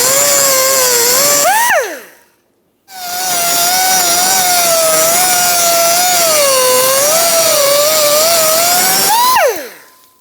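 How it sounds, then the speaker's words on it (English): A loud power tool whines steadily at close range, cutting out a rear trailing arm bushing on a Ford Focus, spinning down briefly, restarting, and running for several seconds before winding down. "You can cut it like I'm going to."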